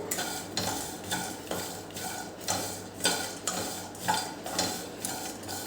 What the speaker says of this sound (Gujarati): હવે આને પણ આપણે હલાયા કરવાનું છે